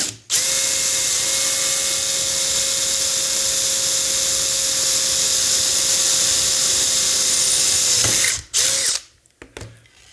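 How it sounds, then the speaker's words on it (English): A loud, steady power-tool whine runs for about eight seconds while riveting a launcher rail, then cuts off with a couple of brief bursts and quiet handling at the end. "then let's rivet that"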